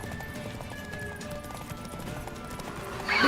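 Rhythmic clip-clop of a horse galloping in The Witcher 3 video game, steady hoofbeats under game music and ambience, with a brief louder burst at the end.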